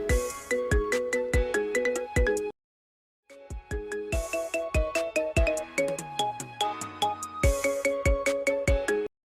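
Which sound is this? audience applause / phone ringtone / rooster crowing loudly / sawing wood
phone ringtone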